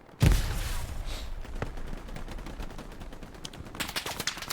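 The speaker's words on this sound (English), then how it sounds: "MG fire." Machine gun fire in the WWII shooter game Hell Let Loose, a loud opening blast followed by sustained rattling bursts and scattered shots that swell again toward the end, with no talk over it.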